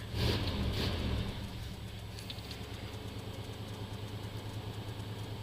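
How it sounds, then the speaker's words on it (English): A 1989 GMC 3500 truck with a 454 engine idles roughly after sitting unused, a steady low rumble with a louder burst of revving in the first second before settling into an even idle. "she is running a little rough right now, but really nice throttle response"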